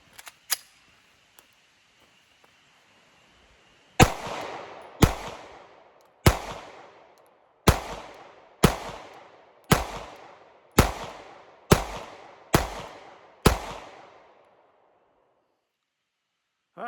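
Glock 26 pistol fired outdoors, ten loud sharp shots at a steady, unhurried pace, each with a short echoing tail, following a few faint handling clicks.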